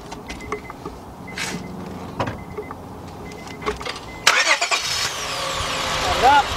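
A 2004 Honda Accord with a 3.0 engine is started with the key: quiet clicks and handling sounds under a voice, then a sudden louder burst of starter cranking and engine noise near the end.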